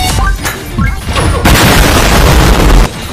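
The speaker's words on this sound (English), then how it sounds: "Rocket launcher!" Rocket launcher blast in the game Arms Race, a loud broadband boom that sustains for over a second amid earlier crackling game sounds, then cuts off abruptly.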